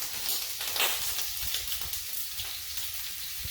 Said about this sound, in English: And I'll saute this off until the onions are translucent